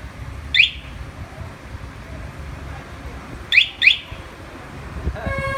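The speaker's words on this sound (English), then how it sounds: "it actually comes with an alarm system" A Royal 200 cc motorbike alarm chirps in short, loud electronic bursts, first one, then a quick pair about three seconds later. A steady tone joins near the end over low background noise.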